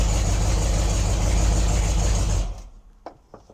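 A junkyard drag car engine runs loud and rough at close range, then cuts off abruptly, leaving a few faint clunks and mechanical ticks.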